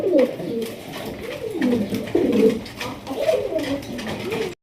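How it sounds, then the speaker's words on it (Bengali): Pigeons in a breeder's loft coo loudly and continuously in overlapping, rolling calls, close by, with faint background murmur. "এটা কিন্তু আপনার খুবই ডাকাডাকি করতেছে দেখতেই পাচ্ছেন"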